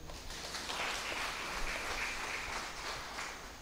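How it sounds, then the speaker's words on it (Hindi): Scattered applause from a church congregation after a Hindi Mass, steady and fairly quiet, carrying through the room at a distance for a few seconds. "इसके लिए भी ताली बजाएंगे।"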